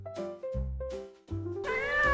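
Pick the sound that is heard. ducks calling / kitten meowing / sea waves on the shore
kitten meowing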